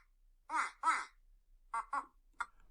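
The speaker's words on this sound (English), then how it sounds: "we're going to hear a quack" A duck quacks four times, in two close pairs with a short gap between them. The calls are clear and fairly near against a quiet background, with no talking.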